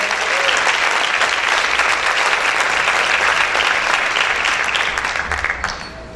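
Sustained applause from a church congregation during a sermon, a dense, steady wash of many hands clapping that stays loud throughout and tapers off slightly at the end.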